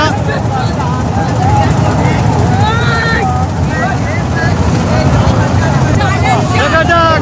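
Three boats racing in a traditional Bengali boat race final, with steady loud engine-like rumble and water noise throughout, crowd voices and whistles layered over it, wind buffeting the microphone.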